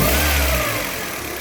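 A 1995 Toyota Tercel engine revs up close by in one short, loud burst, the low drone shifting pitch as it picks back up, with no talking over it.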